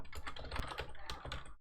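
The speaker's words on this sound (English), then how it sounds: "Typing in a name." Rapid clicking keystrokes on a computer keyboard while a name is entered, close and crisp in an irregular burst with no talking.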